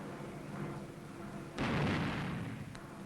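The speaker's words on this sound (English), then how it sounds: "American liberators bomb Jap-held islands in the Palau group." Bombs from American B-24 Liberator bombers explode over Pacific islands in a WWII newsreel, one sudden heavy boom breaking through a dull, noisy soundtrack and then rumbling away.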